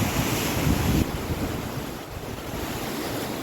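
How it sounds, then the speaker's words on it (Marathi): Sea waves and wind at Sindhudurg sea fort on the Maharashtra coast make a loud, continuous wash of surf, with gusts buffeting the microphone and no voices. "पूर्ण तुम्हाला अख्खा सगळा समुद्र दिसतोय।"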